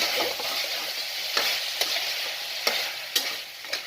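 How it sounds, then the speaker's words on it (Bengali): Salted chicken fries in a pan while being stirred, a continuous close sizzle broken by sharp, irregular scrapes and clacks of a utensil against the pan. "নুনটা দেওয়ার পর নাড়াচাড়া করলাম"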